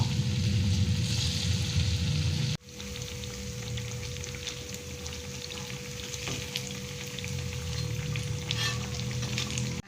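Vegetable fritters (bakwan) with sausage pressed on top fry in oil, giving a steady close crackling sizzle that drops briefly in level, then carries on continuous and dense.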